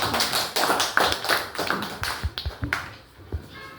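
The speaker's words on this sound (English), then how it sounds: "Give Samir and Aaron a clap." Several people in a classroom give a round of applause for two students, a burst of close, uneven claps and taps that thins out into scattered hand claps.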